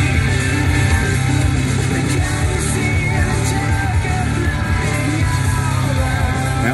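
A crowd of spectators at the Gold Coast half marathon cheering and yelling loudly, a continuous dense roar of voices with whoops held at a steady level throughout.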